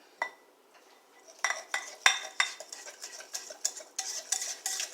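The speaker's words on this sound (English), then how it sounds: "And I'm going to mix these up." A spoon knocks and scrapes around a bowl, mixing about a tablespoon of brown sugar into gluten-free pumpkin and banana muffin batter, with irregular clinks and stirring strokes, close and fairly quiet, with no talking.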